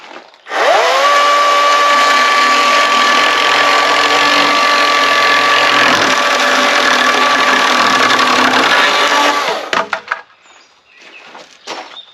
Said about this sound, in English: I like using that saw.